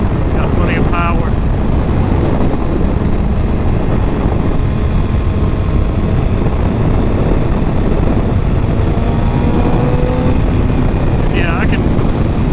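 A 2009 ZX6R motorcycle is ridden, its engine a steady droning rumble under heavy wind rush, with a rider talking over it.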